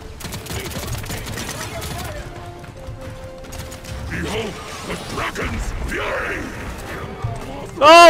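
Mechanical clacking and crashing weapon fire from the video game Paladins, played as Makoa, mixed with game effects under a talking voice, ending in a loud close burst.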